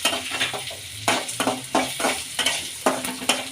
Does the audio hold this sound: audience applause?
no